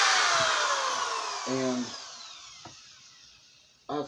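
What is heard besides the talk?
power drill boring into wood carving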